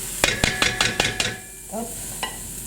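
Courgettes sizzle in a pan over moderate heat, with a run of sharp spatula scrapes and stirs up front followed by a quieter sizzle and one last tap. The cooking sits close and moderately loud, and no one speaks.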